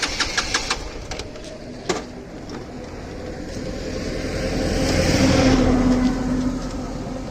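A Hero Xtreme 200R motorcycle that has run out of fuel cranks but fails to start, with a loud, close engine churning, a few sharp clicks at first, then a rising, sustained cranking drone.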